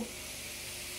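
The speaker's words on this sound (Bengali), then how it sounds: "এখানে একদম গরম গরম রেস্টুরেন্টের স্টেক ভাজা হচ্ছে।" Homemade beef steak sizzling in a hot pan, with a loud, steady, hissing sizzle throughout, close up and without talk.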